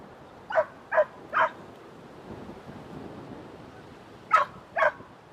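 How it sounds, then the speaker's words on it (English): A dog barks somewhere in the distance, three sharp barks in quick succession, a pause, then two more, over a low steady background hum. "Sounds like they've got a broken dog like our Teddy"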